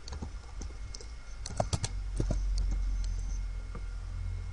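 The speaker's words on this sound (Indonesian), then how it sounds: "Maka kita ketikkan Manokwari." Irregular keystrokes rattle on a computer keyboard, with scattered clicks over a low background hum and a brief burst of quicker taps in the middle.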